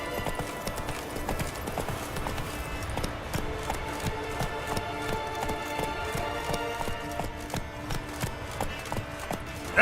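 Roach the horse galloping in The Witcher 3 video game, a steady rapid clip-clop of hooves running continuously at a moderate, even level, with light ambient game sound behind.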